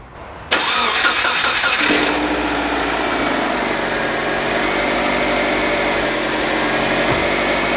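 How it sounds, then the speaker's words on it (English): A 2004 Subaru Forester XT engine cranks briefly and catches, then settles into a steady, loud idle close by, freshly cleaned with degreaser after timing belt work. "let's go ahead and fire up our Forester XT"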